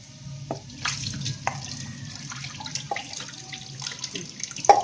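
Running tap water splashes into a sink while tamarind is rinsed by hand, with intermittent clinks and drips, close and moderately loud.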